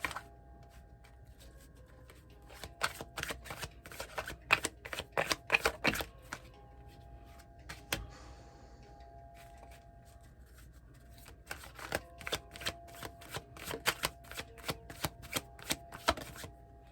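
Tarot cards are shuffled in quick riffling bursts, with a short pause midway before the shuffling resumes, close and moderately loud.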